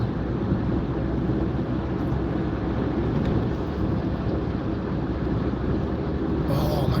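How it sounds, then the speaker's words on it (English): A gravel truck passes on the road, a steady loud low rumble with broadband road roar heard from inside a moving car, with no clear speech. "Oh my God, there's a gravel truck."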